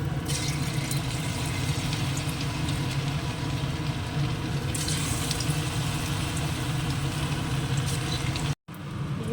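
Cornflour-coated paneer pieces fry in hot oil, producing a loud, continuous rushing sizzle that holds steady for several seconds before cutting off abruptly near the end.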